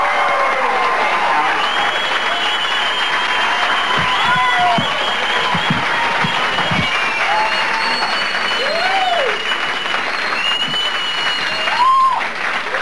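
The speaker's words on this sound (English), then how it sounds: "get kind of a clapping noise going for my friend Howard Buzzgang" Studio audience at a 1986 HBO comedy special clapping steadily and loudly for comedian Howard Busgang, a dense continuous wash of applause, with some whistles and cheers rising over it, that holds throughout.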